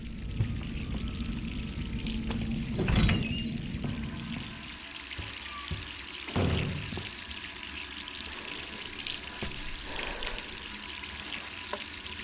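A water tap left running in the game Resident Evil 3 Remake gives a steady hissing flow, moderately quiet, with a few louder splashy swells and scattered clicks over the continuous stream.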